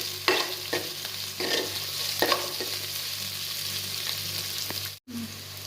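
Chopped onions and grated ginger fry in a pan, a steady sizzle broken by several sharp stirring scrapes near the start, then a brief cut near the end.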